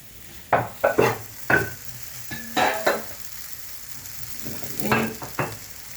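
Ghee stirred in a hot pan, a soft continuous sizzle broken by several sharp scraping taps of a spoon against the pan, close and fairly quiet, with no talking.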